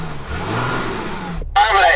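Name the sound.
Toyota Hilux diesel pickup truck engine revving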